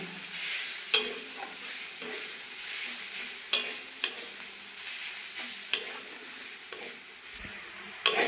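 Chopped onion with chilli powder and cumin powder mixed in a pan for onion paratha, a steady sizzle under repeated scraping strokes with several sharp spoon knocks against the metal, no voices.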